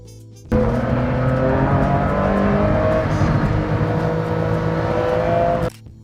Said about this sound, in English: Ferrari Enzo.